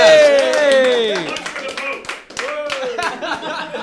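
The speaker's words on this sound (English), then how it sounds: "you also get an applause from all these" An audience applauds contest winners. Rapid clapping runs under loud, excited vocal whoops and talking that dominate the opening.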